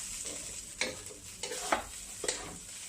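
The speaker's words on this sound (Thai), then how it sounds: "ขัวใส่กระทะซื่อๆเลย" Rice stir-fried in a pan for old-style dark soy sauce fried rice with chicken, with four scraping, sizzling spatula strokes spaced about half a second apart over a steady frying hiss, close and moderately loud.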